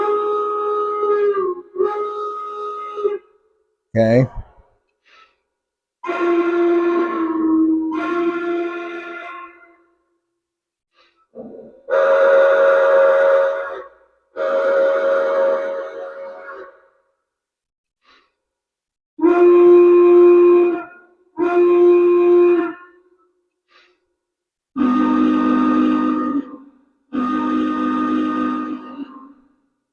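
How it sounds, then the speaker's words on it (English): Whistles from an O-gauge Greenbrier model locomotive sound in several separate blasts, each lasting about one to two seconds, some in pairs. They come with pauses between them and are fairly close and clear. A brief spoken word is heard. "let's go through some of the whistles here on the Greenbrier."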